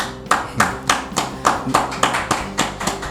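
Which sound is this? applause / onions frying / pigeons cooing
applause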